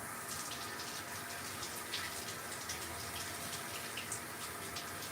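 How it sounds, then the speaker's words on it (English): Kitchen tap runs in a steady, moderate gush over mushrooms being rinsed in a sink, continuous and fairly close. "I'm gonna wash these mushrooms."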